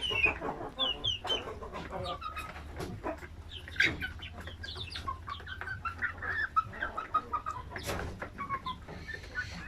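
Chickens and roosters at feeding time cluck and squawk in a busy, overlapping flock, with a few louder calls standing out; moderately close, with faint farmyard hum beneath.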